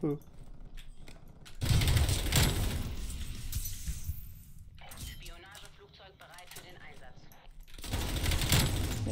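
Call of Duty multiplayer gunfire comes in two loud rapid-fire bursts, one early and one at the end, with quieter game noise between them.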